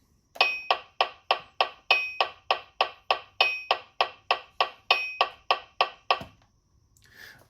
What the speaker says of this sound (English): we can hear one accent per 5 clicks